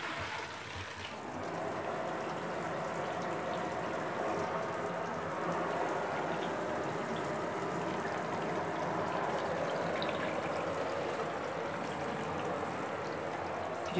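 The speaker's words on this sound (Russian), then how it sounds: "Сейчас я немножко не по инструкции буду смывать все это водой." Water runs steadily to rinse carpet-cleaner foam off car upholstery, a soft continuous splash and trickle that stays fairly quiet from start to finish.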